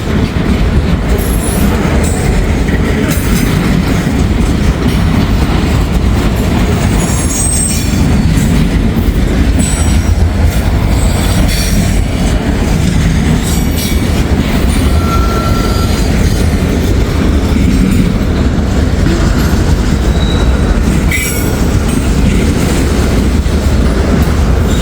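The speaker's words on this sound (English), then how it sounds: "I'm either expecting the next train that southbound Norfolk Southern or that northbound Norfolk Southern intermodal that just passed through Glendale" A Norfolk Southern train rolls past close by in Hamilton, a loud steady rumble of railcars with clacking wheels and occasional high squeals, continuous throughout with no voices.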